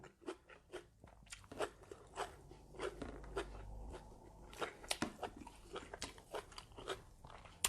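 Someone bites into crisp fried leaves eaten with duck larb, producing close, quiet crunches and steady chewing in an uneven rhythm.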